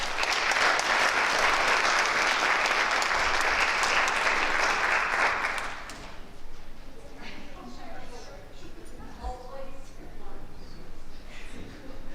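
Loud, dense applause from a high school audience for new National Honor Society inductees at Montezuma-Cortez High School runs for about six seconds, then stops abruptly, leaving quieter room noise and scattered voices.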